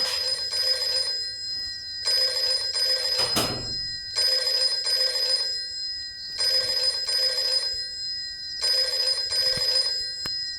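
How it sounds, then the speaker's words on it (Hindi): A telephone bell rings loudly in repeated double bursts with short pauses between, a shrill old-style ring close by, one sharp knock partway through. "तू टेलीफोन की घंटी बजा रहा?"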